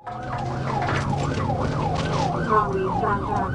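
Police car siren from an Arkansas State Police trooper's vehicle in pursuit of a stolen SUV, a loud wailing rise-and-fall that cycles steadily over a low engine and road rumble.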